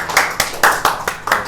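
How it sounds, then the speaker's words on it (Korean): A children's congregation at an elementary church service clapping together, six or so loud unison claps in a quick rhythm, close and alone. "우리 찬양을 받아주신 그 하나님께 영광의 박수 크게 한번"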